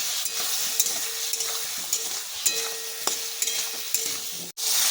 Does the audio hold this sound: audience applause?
no